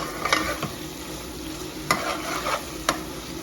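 Onion and tomatoes cook in a pan under a soft, steady sizzle, broken by a few sharp scrapes of a spoon stirring, close and fairly quiet with no talking.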